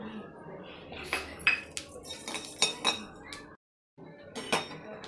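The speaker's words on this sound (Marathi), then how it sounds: "याच कढईत आता आपल्याला 3 चमचे धणे भाजून घ्यायचे आहे." Three spoonfuls of coriander seeds dry-roasting in a kadhai, with irregular clinks and scrapes of stirring against the pan, close and moderately loud, briefly dropping to silence before the rattling resumes.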